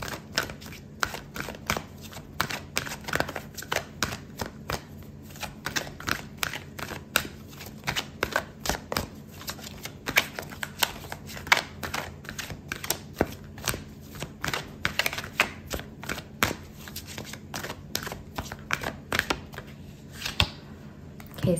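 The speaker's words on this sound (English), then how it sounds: "I'm going to pull out another card for you." Tarot cards shuffled continuously, a dense run of quick papery riffles and flicks close up, steady throughout with no talking.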